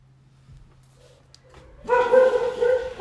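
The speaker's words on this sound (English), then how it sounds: "I apologize about the dogs" Several dogs break into loud, close yapping and barking after a quiet stretch, the barks overlapping at a fast rhythm indoors.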